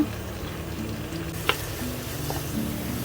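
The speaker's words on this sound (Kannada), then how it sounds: "ಸಣ್ಣಗೆ ಹೆಚ್ಚಿದಂತಹ 1 ಈರುಳ್ಳಿ ಟ್ರಾನ್ಸ್ಪರೆಂಟ್ ಆಗುವವರೆಗೆ ಅದನ್ನು ಹುರಿಬೇಕು." A pan of finely chopped onion fries with a steady low sizzle, cooked along with green chili for a hotel-style paneer butter masala. A couple of brief clinks from a spoon or spatula cut in, and no one speaks.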